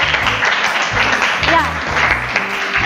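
A classroom full of children breaks into sustained, dense applause that lasts several seconds, with a voice speaking briefly over the clapping.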